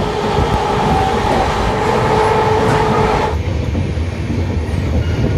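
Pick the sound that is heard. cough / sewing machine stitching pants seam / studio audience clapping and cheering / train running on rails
train running on rails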